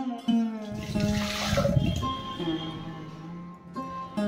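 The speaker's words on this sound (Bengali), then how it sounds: "এরপরে ভালো করে ধুয়ে নিয়ে জলটা সম্পূর্ণ ঝরিয়ে নিতে হবে" Soaked basmati rice being rinsed and drained for Kanika, with a continuous rush of running, splashing water that swells in the middle and tapers off near the end, accompanied by a steady tonal hum underneath.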